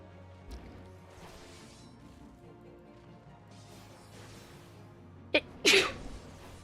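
A single sharp sneeze near the end, a quick intake followed by a loud burst, after a stretch of quiet background sound with faint voices.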